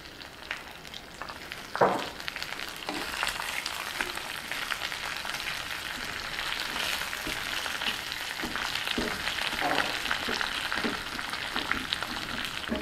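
Ridge gourd peel with salt frying in a pan, a continuous close hissing sizzle with a few louder crackles and faint stirring scrapes, no talking.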